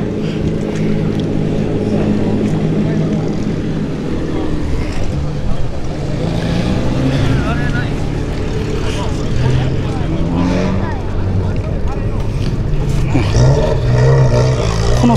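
An old Honda CRX with an oddly long muffler roars at an outdoor old-school JDM car meeting in Awaji, a loud, sustained engine sound with shifting revs, over crowd noise and voices.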